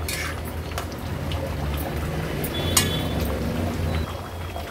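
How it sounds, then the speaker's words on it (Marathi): Stuffed river crab curry with dough balls boils on a high flame, a steady close bubbling and simmering hiss with soft liquid pops throughout. "हाय फ्लेमवर एक उकळी काढून घेते ह्याला"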